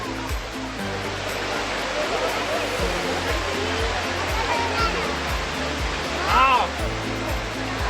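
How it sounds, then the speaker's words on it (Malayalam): A tiered waterfall spills and splashes down rock steps, a loud, steady roar of rushing water close by throughout, with no voices over it. "തട്ടായി പാൽനുര പോലെ ചിതറി ഒഴുകുന്ന വെള്ളച്ചാട്ടം എല്ലാവർക്കും ഒരുപാട് ഇഷ്ടപ്പെട്ടു."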